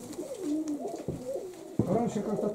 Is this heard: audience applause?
no